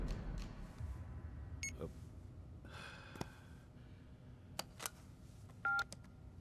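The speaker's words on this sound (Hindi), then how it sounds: "कमिश्नर साहब को फोन लगाओ।" Several short tonal telephone key beeps are dialed on a phone over a low background hum, spaced irregularly near the end of the stretch.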